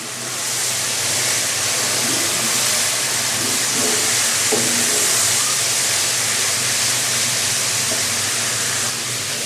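Minced meat and pointed gourd with green chilies sauté in a hot pan, giving a strong, continuous sizzling hiss that holds steady throughout, with a few faint stirring knocks beneath it.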